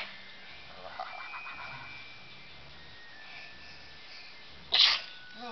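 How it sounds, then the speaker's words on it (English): A pet snake lets out one short, sharp sneeze near the end, close and fairly loud against a quiet room with faint background hum. "You're sneezing too, little man."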